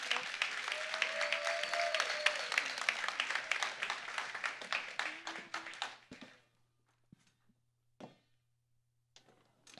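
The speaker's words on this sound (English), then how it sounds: "Give them a round of applause." A conference audience claps and cheers for several seconds, fairly distant, then the applause fades out leaving a few scattered claps.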